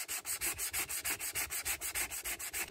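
Steady back-and-forth hand sanding with fine 220 grit sandpaper on a scrimshaw piece, a rhythmic series of close, even rasping strokes about five per second, with no voices.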